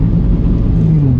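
A Ford Puma ST's 1.0-litre three-cylinder engine revs in a short, steady, loud burst, its low rumble close and unbroken.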